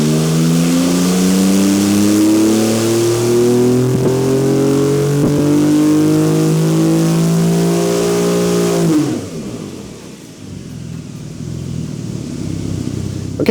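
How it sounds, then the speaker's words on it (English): A Porsche 992 Carrera fitted with an IPD plenum revs hard on a dyno, its engine note climbing steadily for about nine seconds before cutting off into a lower, rumbling idle. "we just got done with the dyno runs"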